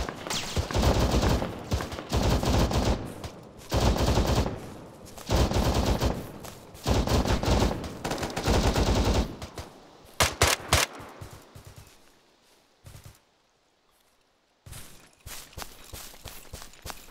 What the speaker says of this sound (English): They saw us coming, they're shooting at us.